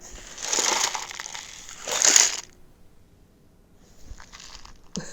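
A homemade shaker made from a paper towel roll filled with sand, little rocks and dried beans gives two loud gritty rattling shakes, near and alone, followed by quieter rustles and a short final rattle.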